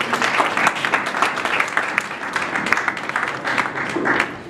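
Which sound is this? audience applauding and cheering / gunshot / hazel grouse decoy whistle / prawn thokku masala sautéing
audience applauding and cheering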